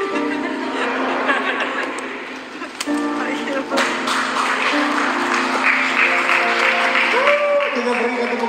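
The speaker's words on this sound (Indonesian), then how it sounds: "Kita berikan tepuk tangan yang meriah" Guests at a Christian wedding ceremony clap and chuckle, a lively round of applause with scattered laughter and murmured voices throughout, fairly close and full.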